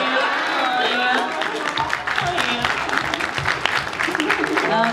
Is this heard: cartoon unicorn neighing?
no